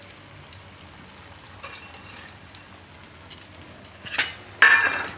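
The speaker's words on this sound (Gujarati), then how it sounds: "અને આ બધું મિક્સ કરી લેવું." A spoon mixes fresh green coriander into steamed carrot-and-flour sambharo in a pan, with soft scattered scrapes and clinks building to louder clattering stirs near the end, no voices.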